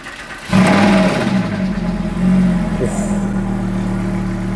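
A crashed Lamborghini Huracan engine cranks and fires with a loud burst, settles into a steady idle, then revs briefly before dropping back to a rumbling idle, close up.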